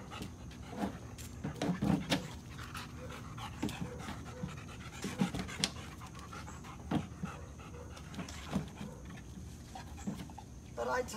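A dog pants steadily for about eleven seconds during leash training, close and fairly quiet, with occasional bumps and handling noises and a voice speaking softly at times.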